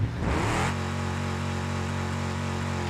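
A strained car engine in the BeamNG.drive driving game revs hard at first, then settles into a steady droning hum that holds to the end, loud and alone with no voices.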